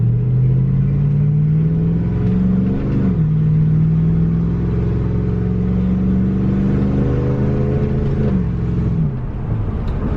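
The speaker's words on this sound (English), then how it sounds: "I hope you guys can hear this exhaust." A high-mileage car's engine, with over 533,000 miles, drones loudly from inside the cabin, its exhaust note rising as it revs, dipping briefly at two delayed gear changes, then climbing again.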